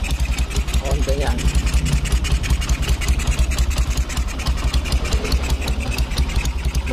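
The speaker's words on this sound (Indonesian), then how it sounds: "Mesinnya lumayan lembut." A Honda Tiger motorcycle engine idling with a leaking exhaust, a fast steady mechanical pulsing close to the microphone, running continuously under someone speaking.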